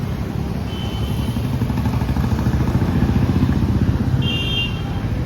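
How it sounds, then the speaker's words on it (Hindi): A motorbike running at a petrol station in India, a steady close engine chug with faint clatter throughout, no voices. "तो जीसू आ चुका है और अपनी बाइक में ना पेट्रोल भरवा रहा है"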